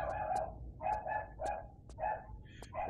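A dog barks indoors in a rapid series of about eight short, sharp woofs, fairly close and evenly spaced, with no talk over them.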